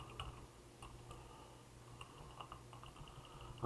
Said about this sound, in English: my typing is getting worse the older I get